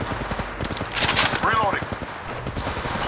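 Rapid gunfire in the Apex Legends video game, a dense run of shots under continuous game noise, with a brief swooping effect in the middle.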